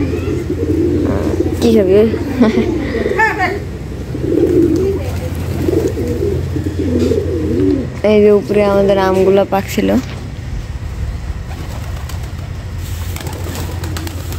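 Heavy corn-fed pigeons in a farm coo in low rolling calls under a steady background hum, with someone talking over much of it and a clearer burst of cooing near the end.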